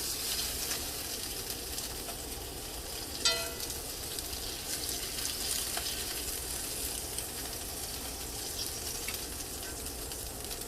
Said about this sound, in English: I'm going to add my onions first, then my garlic.